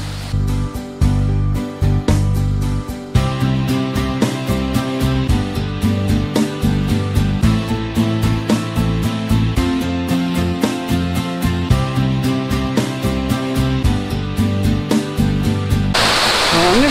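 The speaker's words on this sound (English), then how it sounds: "just water running over some rocks with the bigger falls in the background" Water runs over rocks in a stream below larger falls, a loud, steady broadband rush, with intermittent knocks and bumps close by throughout.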